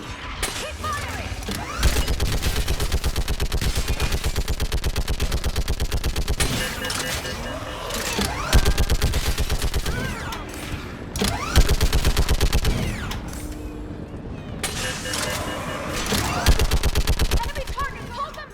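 Rapid bursts of automatic gunfire from a Mass Effect 3 battle, loud and almost continuous with brief pauses, over a dense clattering combat soundscape.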